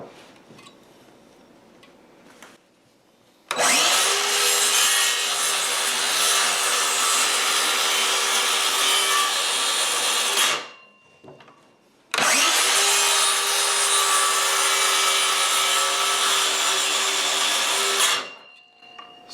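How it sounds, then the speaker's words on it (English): A wooden ridge board for a chicken coop being sawn, two long continuous bursts of loud, close, rasping cutting, each lasting about seven seconds, separated by a short pause. "So I'm just going to haul this out to sawing area. And we'll go ahead and saw this out."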